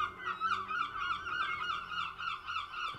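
Seagulls calling in a rapid, chattering series of honking cries, moderately close and continuous, with no voices over them.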